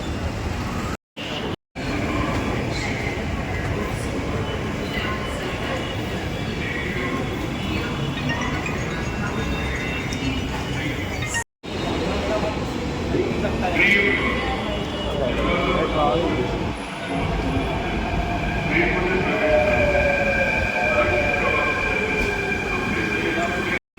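Continuous rumble and rattle of a Mumbai metro train in motion, with steady mechanical noise and occasional squeals, a few sharp dropouts, and voices faintly underneath.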